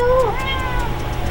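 A big pet cat lets out a clear, close meow with a falling pitch, followed by a softer trailing mew.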